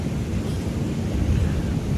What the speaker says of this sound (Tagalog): Kahit ngayon sobrang lakas ng hangin.